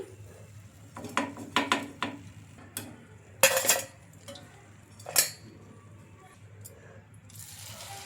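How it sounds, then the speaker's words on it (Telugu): Fried murukulu are lifted out of the pan onto a plate. There are metallic clinks and scrapes of a utensil against cookware in short separate bursts, with a couple of louder clatters, close by, over a low background hum. "ఇంకా ఇలా రెడీ అయిపోయిన వాటిని ఒక ప్లేట్లోకి అయితే తీసుకుందాం."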